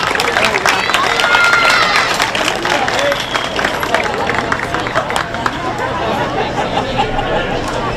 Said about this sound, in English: Give that young lady and all of them a nice big round of applause.